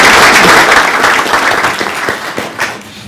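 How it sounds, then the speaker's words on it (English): Audience at a public utilities board meeting claps for a new staff member, loud dense applause tapering off into scattered individual claps. "Let's give him a round of applause."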